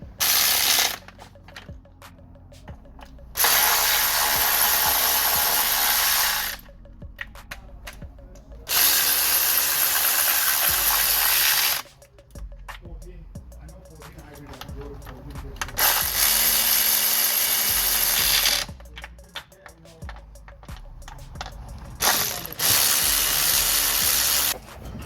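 Hand ratchet tightening bolts on the starter motor of a BMW 320i, loud rapid clicking bursts several seconds long alternating with quieter gaps of handling and faint talk.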